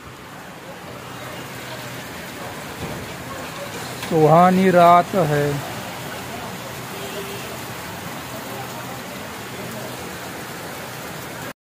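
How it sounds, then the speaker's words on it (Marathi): Heavy rain pours outside in a steady, hissing wash of noise, with a voice briefly singing a short phrase partway through. "पाऊस आलाय जोरात बाबा"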